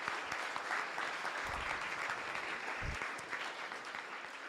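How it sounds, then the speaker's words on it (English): Audience at a university venture awards ceremony, ASU Venture Devils Demo Day, breaking into sustained applause, dense clapping throughout with a couple of low thumps. "So a round of applause for all of them."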